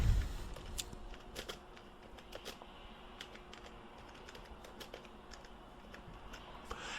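A bank name being typed on a computer keyboard: quick, light key clicks in uneven bursts, close and fairly quiet, with no talking.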